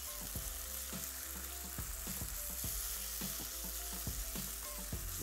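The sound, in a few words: chicken frying in a pan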